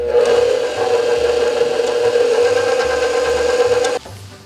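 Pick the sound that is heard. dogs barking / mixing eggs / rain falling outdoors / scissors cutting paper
mixing eggs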